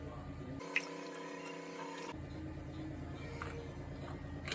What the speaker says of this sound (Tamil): கொஞ்சம் நல்லெண்ணெய் ஊற்றுறேன்.